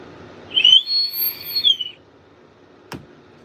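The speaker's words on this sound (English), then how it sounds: "That's my whistle. You like my whistle? It's an adult whistle." A small handheld whistle known as the Dr. Dabber is blown once in a steady, high, slightly wavering tone lasting over a second, close to the mic, followed by a brief sharp click.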